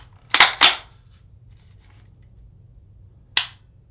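Sharp trigger reset clicks from a Brugger & Thomet TP9-N 9mm compact pistol, two quick close snaps in succession followed after a pause by a single click, against near silence.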